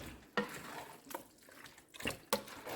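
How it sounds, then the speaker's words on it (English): A spoon stirring meaty tomato sauce for lasagna in a pot, giving soft scraping strokes with a few sharper clinks against the pot, quiet, close and without talk. "And go ahead and stir this together."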